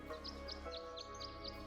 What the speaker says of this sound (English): Bird song.